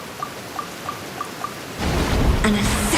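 Rain in the video game Genshin Impact, beginning as sparse, evenly spaced drips before a steady broadband downpour swells in and fills the rest of the scene, with a faint low tone near the end.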